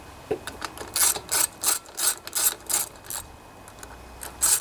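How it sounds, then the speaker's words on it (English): A ratchet tightening nuts on a Honda Harmony lawnmower with a plastic deck, close and clear, in quick bursts of clicking strokes, roughly a dozen rhythmic ratchet swings with short pauses. "It's a good idea to tighten these two nuts up first before you tighten this one."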